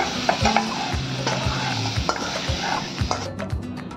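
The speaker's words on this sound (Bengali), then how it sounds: "সয়াবিনগুলো ভাজা হয়ে গেল" Soya chunks fry in hot oil in a pan with a close, steady sizzle, while a spoon stirs and scrapes against the metal in a regular rhythm.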